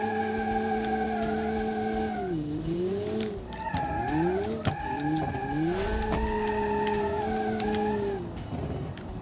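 Sunshine GTI car in the Automation racing game spinning its wheels in second gear, tires squealing in long wavering tones over a revving engine, the squeal swooping and breaking off several times, close and loud.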